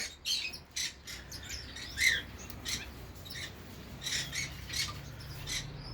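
Conure parrots that have opened their cage doors give short, sharp squawks and chirps in scattered bursts, several calls spread across the moment, moderately near over a quiet indoor background.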